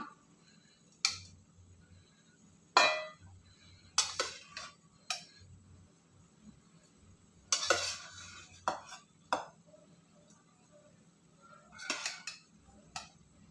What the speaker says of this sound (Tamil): சாதம் கலந்துட்டு காட்டுறேன்